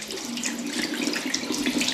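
Tap water runs steadily from a faucet into a sink while a desktop computer CPU is rinsed clean, a continuous close splashing stream with no talking.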